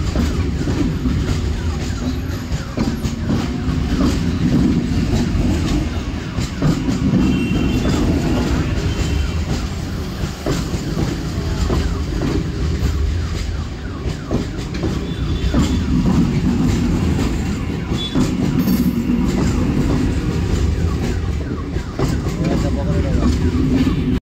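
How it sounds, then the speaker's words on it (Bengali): An empty train rumbles past close by, a steady loud roar with rhythmic clatter of wheels on rails throughout. "আর এই যে ট্রেন যাচ্ছে"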